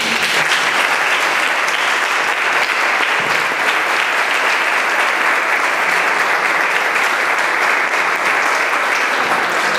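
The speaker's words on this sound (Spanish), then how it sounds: "Pero Mercedes merece un aplauso también" Sustained audience applause at the opening of a photography exhibition in Bobadilla Estación, a dense, even roar of many hands clapping that stays loud for the whole stretch.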